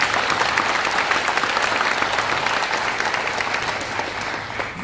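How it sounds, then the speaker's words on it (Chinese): Seminar audience at a leadership training event giving a sustained round of dense clapping that tapers slightly toward the end. "所以请你们给自己一个掌声。"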